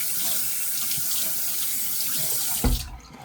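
Tap water runs steadily into a sink for a rinse during a shave, a continuous close hiss that cuts off near the end with a brief splash and thump.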